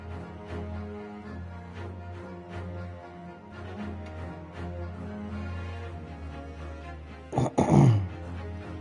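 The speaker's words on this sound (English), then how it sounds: "that probably sounded disgusting clearing my throat like that" A short, close throat clearing rasps out near the end, over steady background music from the Great Ace Attorney game.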